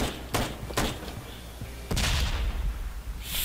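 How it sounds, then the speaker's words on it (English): Enemy gunfire in the video game Ride to Hell, with sharp shots and a heavier burst of firing that lingers as a rumbling wash, loud and close. "Still got another one shooting at us."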